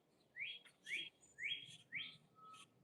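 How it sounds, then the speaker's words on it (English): Several small birds squabble with sharp rising chirps and whistled calls, four loud bursts spaced about half a second apart with a fainter call at the end, over a low background murmur. "Them birds be fighting though."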